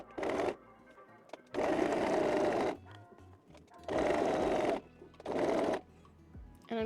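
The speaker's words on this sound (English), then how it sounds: "I'm going to go ahead and sew along here" A sewing machine stitches along the pocket of linen pants in four short bursts, each a rapid whirring chatter lasting about a second, separated by brief quiet pauses, close and clear with no talking.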